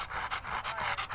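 A dog panting close by in short, rapid, rhythmic breaths after an iguana removal job outdoors, the steady huffing filling the brief moment on its own.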